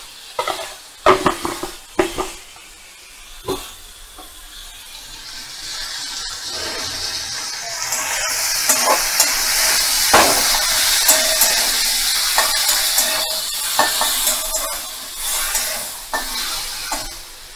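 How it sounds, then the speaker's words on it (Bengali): Shrimp frying in a pan over a medium flame: a few sharp clatters of stirring at the start, then a broad, steady sizzle that swells and holds, with occasional scrapes against the pan. "মিডিয়াম ফ্লেমে রেখে চিংড়ি মাছটা ভাজা ভাজা করে নিতে হবে"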